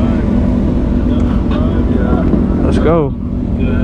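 A Harley-Davidson motorcycle engine rumbles steadily and loudly at a bike meet, mixed with crowd noise and music while people talk and shout over it.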